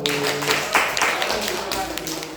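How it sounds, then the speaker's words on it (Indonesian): Classroom applause for a student presentation group, a dense patter of hand claps filling the room for a couple of seconds, fairly loud and steady with some voices mixed in. "Tepuk tangan untuk kelompok 1."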